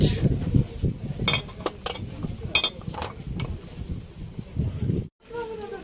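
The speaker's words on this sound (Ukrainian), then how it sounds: "Чайні ложки" Light metallic clinks of small teaspoons knocking together, several scattered taps over a low murmur of voices and flea market noise.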